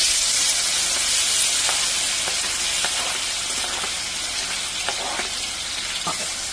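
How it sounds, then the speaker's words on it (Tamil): Onion, garlic and tomato frying in a pan, a dense steady sizzle with faint stirring scrapes and small pops throughout, close and loud. "சோ இந்த ஸ்டேஜ்ல நம்ம வந்து தக்காளியை சேர்க்க போறோம்."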